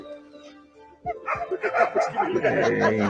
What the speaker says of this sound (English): Look at this dog chasing away an overly cheeky bear.